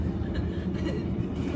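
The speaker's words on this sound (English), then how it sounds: "we are still on the train" Steady low rumble of a moving train on the way to Portland, heard from inside the carriage, a continuous dense drone with faint rhythmic track clatter throughout.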